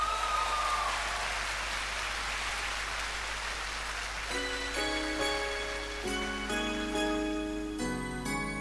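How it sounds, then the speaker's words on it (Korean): Audience applause welcoming a singer onto a stage, a soft, rain-like patter of clapping that gives way to sustained piano or keyboard chords as the music begins. "자, 큰 박수로 만나주세요."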